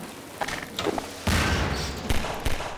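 A sudden deep boom at about one second, followed by rumbling blasts and a couple of sharper bursts, explosions in Half-Life 2.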